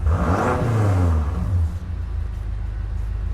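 A 2018 BMW M5 in Sport Plus mode gives one throaty rev close by, rising and falling over about a second and a half before settling into a low, steady idle rumble.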